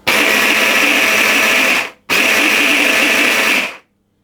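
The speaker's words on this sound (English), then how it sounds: "I'm only doing this in the immersion blender because it's less washing up than getting the food processor out." An immersion blender grinds oats and almonds in two loud, sustained bursts separated by a brief pause, running alone and close up.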